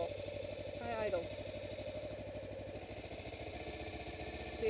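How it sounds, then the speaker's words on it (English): A Kawasaki Ninja 250R motorcycle engine idling high with the clutch pulled in, a steady close mid-pitched pulsing hum with a brief rising whine, and someone talking over it. "The bike starts idling high for no reason at all."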